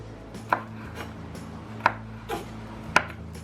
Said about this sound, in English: Here's the other jalapeno. Let's slice that up.